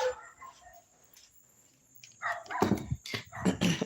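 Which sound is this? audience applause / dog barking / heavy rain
dog barking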